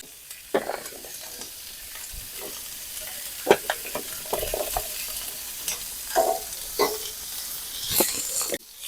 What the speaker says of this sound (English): Next, we'll go ahead and add our peppers.